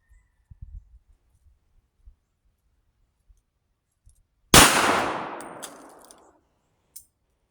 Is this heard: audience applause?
no